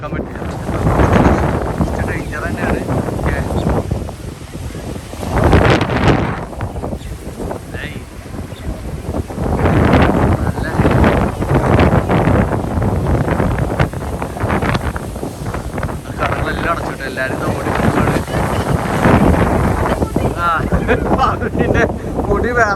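Strong gusty wind roars and buffets the microphone, rising and falling in waves, while people talk over it, in the mountains near Khor Fakkan, UAE.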